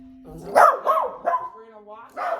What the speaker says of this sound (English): Apologies for the big dogs.